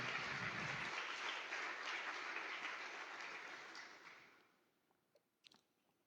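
A church congregation at a Sunday service claps together in a full burst of applause that fades away over several seconds, leaving a few faint scattered sounds.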